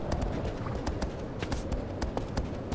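A horse galloping and jumping in Shadow of the Colossus, its hooves pounding out a steady, quick clip-clop rhythm at close range with no voices over it.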